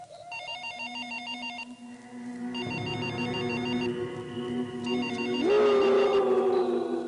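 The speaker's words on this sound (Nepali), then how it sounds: "फोन उठा न" A telephone rings in repeated electronic bursts, loud and close, with a rising tone entering near the end over a dramatic musical backdrop.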